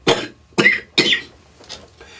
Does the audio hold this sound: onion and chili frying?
no